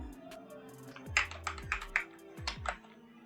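Light, scattered keystrokes on a computer keyboard as a phone number is entered in accounting software, a handful of close taps in a short run over faint background.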